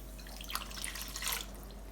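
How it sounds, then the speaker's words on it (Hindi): One cup of water poured into a pan of sugar to make sugar syrup for sweet warqi puri, a short, soft splashing trickle with a few drips, faint and heard alone. "इसी कप को मेजर करते हुए हमने ऐड कर लेना है 1 कप पानी"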